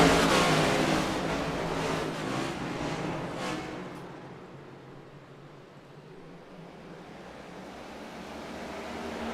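NASCAR race cars roar away from the start at North Wilkesboro Speedway in a racing sim, a dense, loud wash of engine noise that surges at first and then thins slightly as the pack pulls away.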